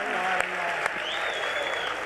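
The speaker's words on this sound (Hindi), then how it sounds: "तालियां बजाओ एक बार जरा जम के।" Applause from the audience at a live Hindi poetry stage show in Mumbai, a dense continuous wash of clapping with a couple of sharp louder claps early on.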